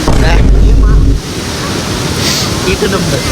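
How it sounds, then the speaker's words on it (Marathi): A waterfall near a hidden hillside temple roars loud and close as a steady broadband rush, with heavy wind buffeting the microphone in the opening second. "तर काय बघा एकयू धबधबा आहे"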